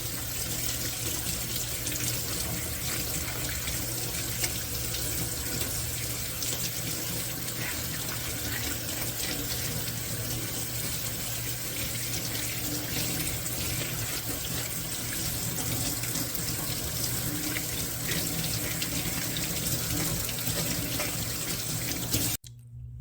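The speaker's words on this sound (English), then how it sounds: "I'm doing a second washing with warm water still." Warm water runs from a sink tap over a silicone paint palette being washed, a steady close gush with faint splashing that continues unbroken until it cuts off abruptly at the end.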